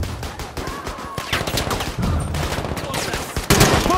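Machine gun fire in the video game Battlefield 5 rattles in loud, rapid bursts during a chaotic battle, with shouting voices mixed in among the shots.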